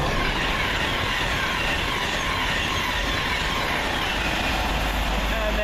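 A fast Pendolino electric train rushing past close by, a continuous loud roar of wheels and air with a faint high squeal.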